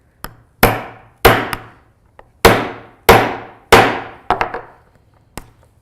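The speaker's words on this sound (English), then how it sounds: "we're going to hit it with the hammer" A hammer strikes a metal drawstring eyelet on a hooded gaiter about eight times, with sharp, loud, close blows that come in an irregular rhythm and include a quick double tap, and no talking is heard.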